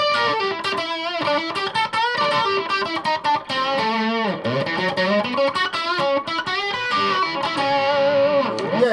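Heavily distorted electric guitar from a 1980 Washburn Falcon in single-coil mode plays fast, choppy riffs and slides, loud and up close, with no voices.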